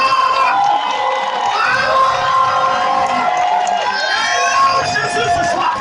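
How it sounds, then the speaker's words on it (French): A church congregation shouts and cheers with cries of joy during a worship service, a loud, continuous crowd roar of whoops and raised voices filling the space throughout. "Acclame Jésus sur le pied, avec des cris de joie"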